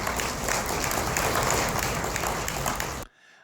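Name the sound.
audience applause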